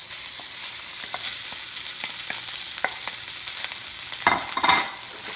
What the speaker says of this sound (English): Now we're going to put the rice in.